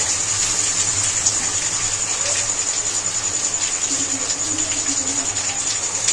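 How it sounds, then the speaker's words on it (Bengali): Reserved chicken boiling water poured into frying masala for chicken bharta, a loud continuous rushing gush of liquid lasting throughout, close by and steady. "এই জলটাই এবার মশলাটার মধ্যে দিয়ে দেবো"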